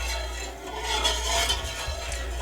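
Metal spoon stirring pectin in a metal pan on the stove, giving continuous scraping and clinking over a low hum, with no talk.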